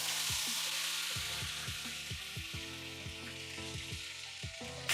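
Chicken frying in hot oil with masala on a medium-high flame: a steady, close, broadband sizzle. Repeated thuds and clacks of a spoon stirring the pan sound over it, and no one talks.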